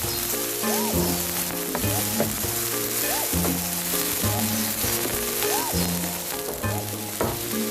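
Chopped tomato frying over high heat in a pan, a steady close sizzle that runs through the whole stretch with no voice over it.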